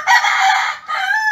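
A farmyard chicken crows loudly and close by in two bursts separated by a brief pause, with no voices over it.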